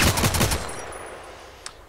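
Gunfire in the online shooter Contract Wars: a loud, rapid automatic burst at the start that fades into a trailing echo, followed by one faint click near the end.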